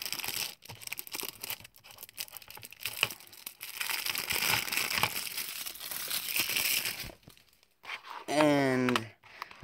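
Toy packaging from a McDonald's Lego Marvel Super Heroes toy is torn open and crinkled nearby in a steady run of crackling plastic and paper, with a voice speaking briefly at the end.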